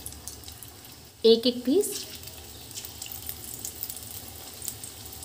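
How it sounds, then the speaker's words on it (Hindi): Mix bhujia pakoda frying in hot oil over a high-to-medium flame gives a steady, moderate sizzle throughout, with a short burst of speech near the start. "ऑयल भी हमारा गर्म हो चुका है। चलिए फिर हम फ्राई करते हैं मिक्स भुजिया पकौड़ी।"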